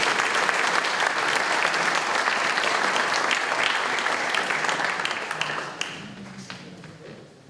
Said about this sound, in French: je pense qu'on peut vraiment applaudir les artisans de la lecture